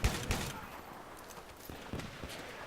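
Semi-automatic shotgun blasts in Battlefield 3 team deathmatch on the Noshar Canals map, with a couple of loud shots at the start and a few softer reports later.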